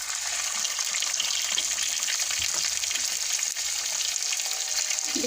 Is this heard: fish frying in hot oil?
yes